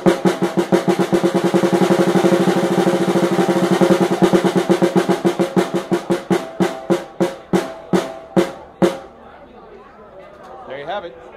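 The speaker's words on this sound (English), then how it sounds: "So the double stroke roll is simply right, right, left, left" Snare drum double stroke roll played right-right-left-left, starting slow, speeding into a dense buzzing blur, then easing back to widely spaced strokes before stopping, loud and close.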